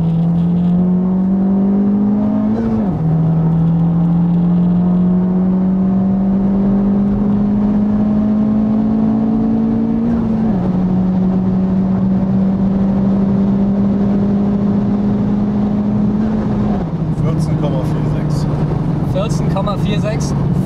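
A Honda Civic Type R FK8 accelerates hard uphill, its engine rising in a loud, close drone through three gearshifts with brief dips between, with someone talking over it.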